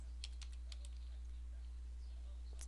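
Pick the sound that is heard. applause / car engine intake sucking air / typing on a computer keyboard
typing on a computer keyboard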